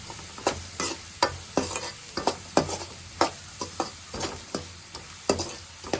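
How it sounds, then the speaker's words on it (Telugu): Egg fried rice being stirred with garam masala and coriander powder in a hot pan, with rhythmic spatula scrapes every half second or so over a steady low sizzle, close and clear with no voices. "గరం మసాలా, కొంచెం ధనియాల పొడి వేసి కలుపుకుందాం"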